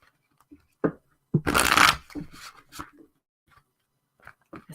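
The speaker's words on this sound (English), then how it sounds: "When you are shuffling and a card just flies out" A deck of chakra cards is shuffled close by, a brief loud rustling burst among scattered softer handling taps and clicks, with no talking.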